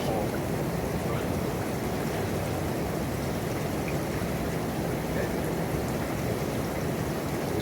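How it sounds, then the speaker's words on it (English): A hot tub's water pump runs at low speed, producing a constant, even rushing and churning of water with a low hum, loud and unbroken throughout. "the water pump is running."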